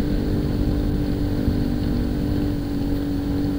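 A Yamaha Mio i 125 scooter rides a bumpy, hilly road with short climbs and descents, its engine giving a steady, close drone with a constant buzzing tone and a little rumble from the rough surface.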